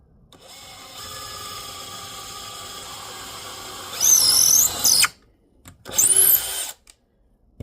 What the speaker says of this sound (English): Didn't drill all the way because I wanted to make sure the nails do good fit in here.